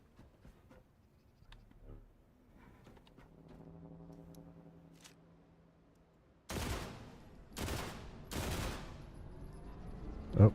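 Several loud gunshots fired in the video game The Last Caretaker, a cluster of sharp broadband blasts in the second half after a quieter stretch of ambient game tones and hum.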